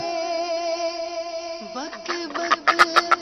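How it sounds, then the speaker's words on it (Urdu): A duck quacks several times in quick, bright bursts, preceded by a steady tonal hum; the calls are close and grow louder toward the end. "بطخ"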